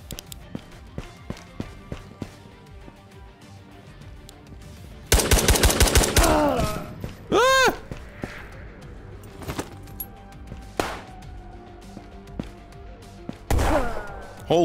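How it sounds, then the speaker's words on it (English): Bursts of automatic gunfire in the shooter game Ghosts of Tabor, with a loud rapid volley, scattered single shots and footsteps between them, and a second close burst near the end. "there's a Phoenix shooting at us"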